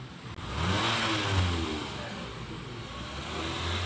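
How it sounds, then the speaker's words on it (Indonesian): A Nissan Livina or Xpander engine after a tune-up revs up and holds at raised speed, a steady close mid-pitched engine drone with slight rises and dips, no voices. "sekarang ganjalan pedal gas saya lepas, kita mainkan RPM-nya. RPM-nya lebih gesit."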